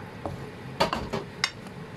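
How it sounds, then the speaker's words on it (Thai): Pork stir-fried with garlic flowers in a pan, with a handful of sharp metallic clinks and scrapes from a utensil against the pan, close and irregular over a soft background. "หนูก็มาใส่นี่ค่ะเหมือนกับดอกกระเทียมค่ะใส่ลงไปผัดเลยค่ะ"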